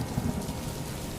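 Rain falls steadily on a farming village, a soft continuous patter with a low rumble of thunder underneath.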